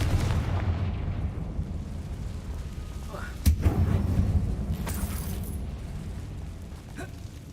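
Confringo fire spell exploding in Hogwarts Legacy inside a closed mine, a sharp blast cracking out of a low rumbling roar, followed by a softer burst and lingering crackle.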